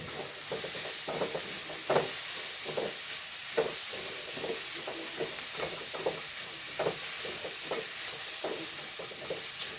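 A spatula stirs turmeric through a sizzling pan for a spinach stir-fry, the scraping strokes coming in a steady rhythm over a faint hiss of frying.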